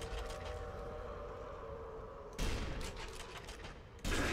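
Gunfire from the video game Gorgeous: a steady low rumble gives way to two loud, sharp shots, one at about two-thirds of the way through and another near the end, with no talking.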